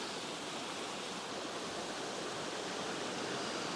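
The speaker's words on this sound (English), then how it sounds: "And right up there is the waterfall." Steady, dense roar of rushing water at Shut In Falls, broadband and continuous, like a waterfall close by with no voices.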